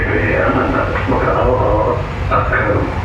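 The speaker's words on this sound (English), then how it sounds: "the train goes over the road, so it does not compete with traffic" A Honolulu light rail train rides along an elevated track over a road, heard from inside as a steady loud rumble and rattle, with a person talking over it.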